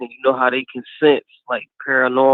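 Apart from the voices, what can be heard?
No everyday noises stand out.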